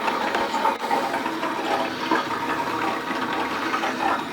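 Water rushes steadily into the bowl of a newly installed pressure assist toilet, a continuous hissing, gurgling fill that stays close and fairly loud throughout with no talking.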